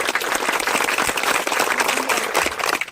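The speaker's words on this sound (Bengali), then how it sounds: "দর্শক তালি দাও" An audience claps and applauds continuously at a biscuit-eating contest, dense and fairly loud throughout.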